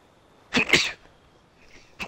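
A person sneezes twice in quick succession, close and fairly loud, followed by a small sharp third burst after a short pause.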